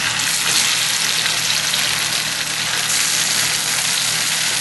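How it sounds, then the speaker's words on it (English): Tofu pieces frying golden brown in a pan of hot oil, giving a loud, continuous close-up sizzle and crackle with a low background rumble, no voices. "while the tofu is frying"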